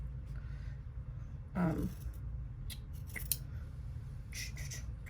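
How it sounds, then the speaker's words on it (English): Scissors trim through fabric and embroidery stabilizer beside a zipper on a small rucksack, giving a few quiet, short snips and crunches over a steady low room hum. "trim it and cut it away from the stabilizer at the same time"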